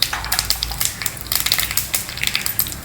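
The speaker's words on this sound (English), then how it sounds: "When the oil is hot, add some mustard seeds, a few cumin seeds, a few methi seeds" Mustard, cumin and methi seeds sizzle and crackle in hot coconut oil in a pan, a steady close frying hiss broken by many quick sharp pops throughout.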